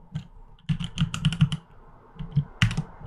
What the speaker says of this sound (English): If I seem to be typing clumsily, I've recently learned how to type with all 10 fingers.